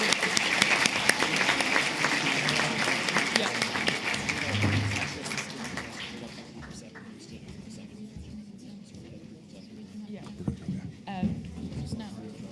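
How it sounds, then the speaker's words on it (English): Applause at a model United Nations conference for guest speakers and ambassadors, a dense sustained clapping from a large audience that gradually thins and fades over several seconds, with voices talking underneath. "another round of applause for the guest speakers, for the ambassadors"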